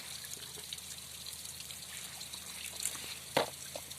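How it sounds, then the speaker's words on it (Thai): Pond water overflowing and trickling out through an outlet in a frog and cherry snail pond, a faint, quiet dribble with a couple of brief splashy drips near the end. "เดี๋ยวเวลาน้ำล้นครับมันจะออกมานี่ครับ"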